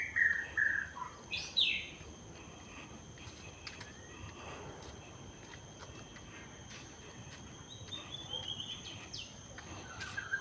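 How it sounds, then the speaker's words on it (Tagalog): Birds chirping in a Singapore park, a few clear calls in the opening seconds, then sparse distant tweets over a steady hum of insects and ambient outdoor noise. "Mga ibon."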